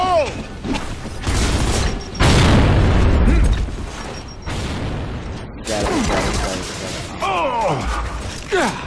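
In an online multiplayer shooter, grenade explosions go off: heavy, loud booms followed by crackling debris and mechanical game effects, with players' voices calling out over the din.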